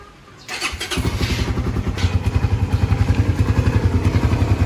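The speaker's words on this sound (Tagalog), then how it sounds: "Parang hissing sound o sipol." A Yamaha Raider motorcycle engine running from a cold start, with a steady pulsing idle and a faint hiss or whistle near the radiator riding above the loud, close engine throb.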